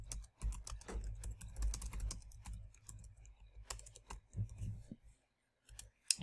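Typing on a computer keyboard while entering task details, rapid irregular clicks close up with some low hum and murmured background, broken by a brief pause near the end.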